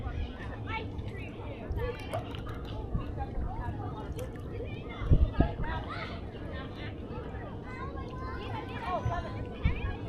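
Distant children play and shout near a small river through the trees, a continuous babble of young voices with occasional louder cries over outdoor ambience.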